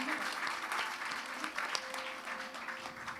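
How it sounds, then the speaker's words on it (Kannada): Applause from the audience after dancer Ananya's classical dance performance at her gejje pooja programme: steady, fairly faint clapping of a crowd that fills the whole stretch. "ಜೋರಾದ ಚಪ್ಪಾಳೆ ಮತ್ತೊಮ್ಮೆ ಅನನ್ಯಾಳಿಗೆ"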